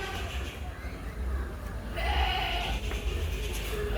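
A cross-bred goat that has kidded once gives one short, clear bleat at a livestock sale in Malappuram, over a steady low rumble of background noise.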